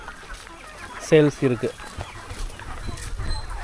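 Native country chickens on a poultry farm in Ranipet district cluck in a few short, sharp bursts over farmyard background noise while someone talks.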